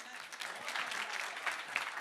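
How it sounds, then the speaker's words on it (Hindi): Studio audience at a televised Hindi debate breaking into applause, a dense, even clatter of many hands heard from a moderate distance, fairly faint and continuous through the short moment. "ताली बजानी चाहिए।"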